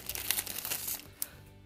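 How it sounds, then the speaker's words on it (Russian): Small plastic packet from a parcel crinkling as it is opened, a dense close rustle that thins out toward the end, quiet, no one talking. "Пакетик извлечем."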